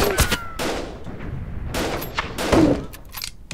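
Gunfire in a video game skirmish, rapid bursts and single shots cracking in quick succession, some close and sharp, others more distant, with a short electronic tone mixed in.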